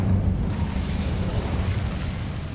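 A Hogwarts Legacy Incendio fire spell erupts as a steady, rumbling burst of flame, a loud low roar that holds for a couple of seconds without any voices.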